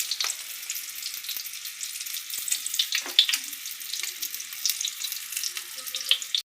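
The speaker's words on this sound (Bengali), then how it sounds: "এবার গোটা আলুগুলো ভাজা হচ্ছে।" Whole potatoes fry in a wok for a Saraswati Puja gota chachchari, with a bright, steady sizzle and crackle broken by light stirring scrapes. The sound stops abruptly at the end, and no one speaks.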